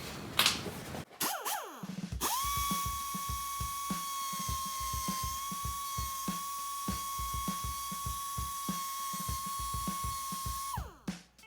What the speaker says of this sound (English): What I'm going to do now is take my cutoff wheel and just run along there to put that little line back in